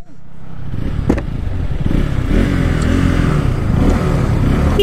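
A KTM RC200 BS6 and a Yamaha R15 V3 BS4 carrying pillion riders launch in a drag race, engines revving up loud and close into a sustained rising roar with a brief clatter at the start.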